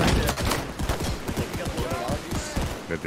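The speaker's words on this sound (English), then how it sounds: "there's a machine gun there" Machine gun firing in the Holdfast battle game, a rapid steady stream of loud, close shots running throughout, with voices over it.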